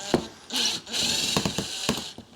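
Phillips screws are undone from the plastic undershield of a 2010 Honda Jazz 1.2 petrol. Several quick clicking and whirring tool bursts sound close up over about two seconds.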